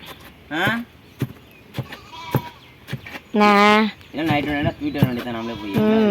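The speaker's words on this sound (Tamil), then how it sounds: "ஆட்டுக்குட்டி போடுங்கடா" Young goats or lambs bleat repeatedly in loud, quavering calls, with one long sustained cry in the middle, while people talk nearby between the calls.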